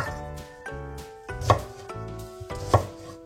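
Knife chopping onions into small pieces on a board for a chicken-and-potato dish cooked in a kazan on a Kamado grill: steady rhythmic close chops, with two harder thuds standing out, no talk.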